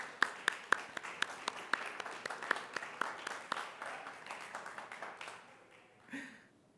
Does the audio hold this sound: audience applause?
yes